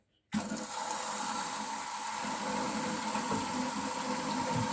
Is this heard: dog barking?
no